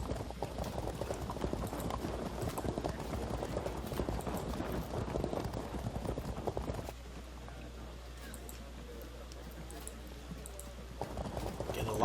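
In the Field of Glory 2 strategy game, cavalry horses move with a dense, continuous clip-clop of many hooves, which fades into a quieter low hum, then returns briefly at the end.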